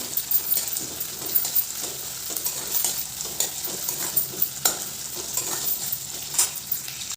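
Onion softens in oil over medium heat for matki usal, a steady close sizzle broken by scattered spoon clinks and scrapes against the pan as it is stirred, with no voices.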